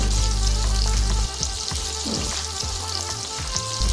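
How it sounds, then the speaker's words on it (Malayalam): Paneer cubes frying in hot oil in a pan, a loud continuous sizzle and crackle close up, with occasional stirring clatter and no talking. "അപ്പോൾ ഒരു പാനിലോട്ട് ഓയിലൊഴിച്ച് പനീർ ഫ്രൈ ചെയ്തെടുക്കാൻ പോവാണ്"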